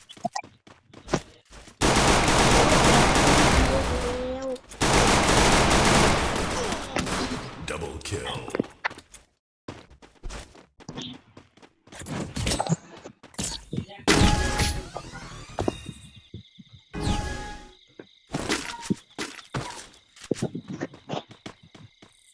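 Gunfire in a Free Fire 4v4 video game match, with long bursts of loud automatic fire, then scattered close single shots, impacts and shattering sounds amid other game effects, with players talking over it.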